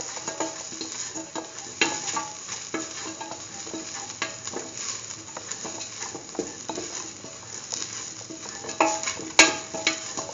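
Green tomatoes sautéing in a pan with a steady, moderate sizzle and frequent stirring scrapes throughout, a few sharper utensil clicks standing out near the end.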